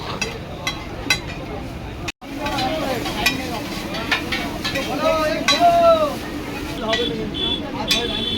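Vegetable chow mein is stir-fried in a wok at a street food stall beside Sealdah station, with steady sizzling and metal-on-metal scraping and clinks under busy nearby talk.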